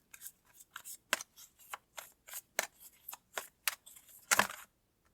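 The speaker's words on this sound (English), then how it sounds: "I'm going to pull 3 cards to go with that." Tarot cards are drawn from a deck in a quiet room, giving a string of soft, crisp shuffling and sliding flicks, with one fuller rustle near the end.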